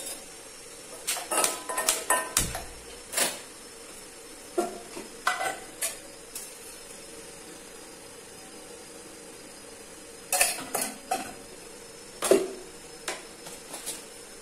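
Spices, green chilli and curry leaves fry in oil in a bowl as a tempering for rasam, a soft continuous sizzle broken by bursts of metallic clinks and scrapes from stirring.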